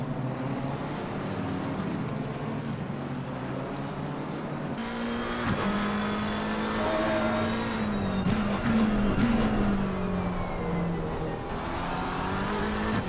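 Two BMW race cars battle in Assetto Corsa Competizione at Misano, their engines droning and rising in pitch through gear changes. The cars sweep closer and louder midway, with no talk over the engines.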